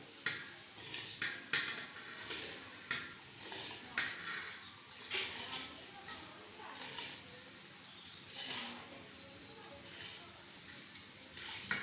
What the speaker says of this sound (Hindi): अब हम इसमें चावल डालेंगे